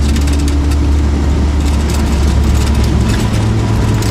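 The engine of a 1972 MGB GT runs steadily while driving, shifted out of overdrive down to third at moderate revs, a continuous loud low drone with road noise and no talk.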